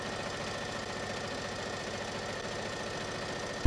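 A sewing machine runs steadily throughout, stitching panels of a giant skirt together with a fast, even mechanical chatter and low hum, close and continuous with no talk, cutting off abruptly at the end.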